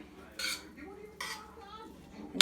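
Beef soup ingredients for Filipino pinapaitan being mixed in a pot, with two distinct bursts of utensil scraping and clinking against the pot over quiet, close-up kitchen background.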